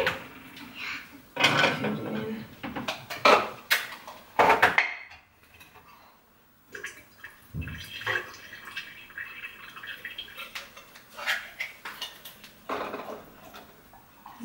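Dishes and cutlery clatter in a home kitchen while a plate of corn is put together for a child's birthday preparations, with scattered clinks, a short lull, then more bursts of handling noise close by.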